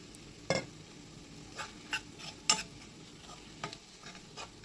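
A spoon stirs thick prawn roast masala in a pan: half a dozen distinct scraping strokes and metallic taps come up close over a soft background sizzle, with no speech.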